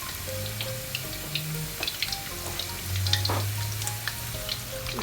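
Potato cheese balls deep fry in hot oil with a steady close bubbling sizzle, punctuated by faint pops and a few light clinks, with no talking.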